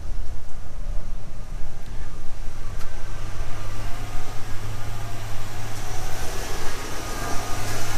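A 1978 Oldsmobile Toronado XS barn find, sitting for decades, idles steadily with a low, even engine rumble, a whirring clutch fan and broadband hiss, continuous and fairly loud with no voices.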